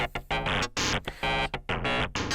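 Rapid, choppy electronic bursts pulsing in an uneven looping rhythm, buzzy and harsh, from a modular synth patch with a very fast looping envelope feeding back through a Make Noise Soundhack Spectraphon.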